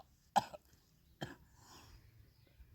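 Two separate harsh coughs from someone with a viral illness, close and fairly loud, with quiet gaps and faint low background noise between them.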